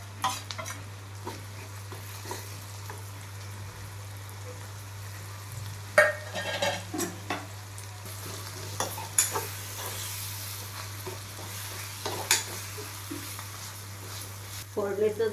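Ground green chili thecha frying in hot tempering oil, a steady close sizzle punctuated by spoon scrapes and stirring clinks against the pan, with faint talk in the background.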